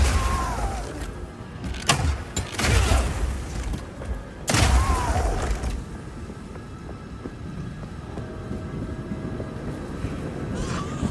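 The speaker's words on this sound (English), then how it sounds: "One of the really useful features of this version is that you can explode any grenades that happen to be on the ground." In Path of Exile 2, grenades lying on the ground are detonated in a chain of loud, heavy booms in quick succession, followed by a rumbling fade.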